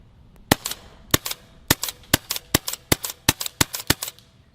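WGP Outkast paintball marker firing a rapid string of about fourteen sharp, loud cracks at a fairly even, quick rhythm, close up with no talking.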